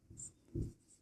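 Writing on a board during a math lesson, two brief, faint stroke sounds about half a second apart in an otherwise quiet moment.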